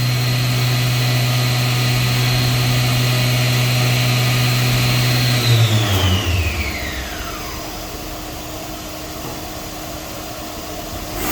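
A Fadal vertical machining center spindle runs steadily at 7,500 RPM with a loud, even whine, then spins down, its pitch sliding lower before settling into a quieter hum.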